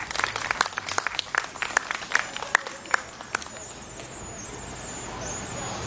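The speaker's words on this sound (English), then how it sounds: "I think they all deserve a round of applause" An audience honouring art competition winners gives scattered, crisp handclaps that thin out and fade after a few seconds, leaving a quiet room hum.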